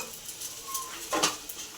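Food frying in a pan in a home kitchen, a soft, steady sizzle with faint stirring scrapes and a brief louder crackle near the end, quiet and close.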